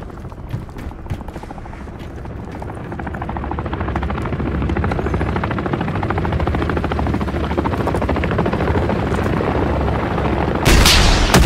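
A helicopter in Call of Duty: Modern Warfare III thumps with steady, close rotor chop that builds slightly in loudness, scattered distant shots and a sudden burst near the end.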